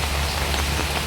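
Dense, loud rain during the rainy season drumming on a surface close by, a constant heavy hiss over a low rumble, brief and without talking.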